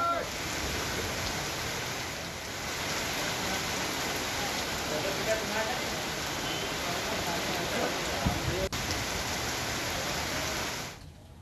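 Monsoon rain falls steadily on farm fields in Neemuch, a dense, even hiss of drops that keeps up for the whole stretch with no break and no voices over it.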